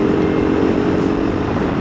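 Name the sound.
KTM 390 Adventure motorcycle engine with aftermarket stainless full exhaust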